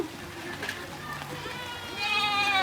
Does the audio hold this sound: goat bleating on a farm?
yes